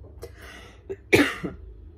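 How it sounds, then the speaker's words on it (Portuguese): A single sharp cough from a woman with the flu bursts out close by, preceded by a softer throat sound, with quiet room noise around it. "Começo a falar muito, me dá tosse."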